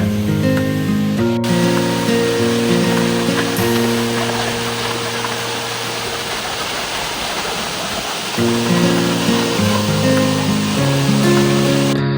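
Dehena Ella waterfall near Ratnapura, Sri Lanka, gives a steady broadband rushing roar, partly masked by loud music with a clearer stretch of water noise in the middle.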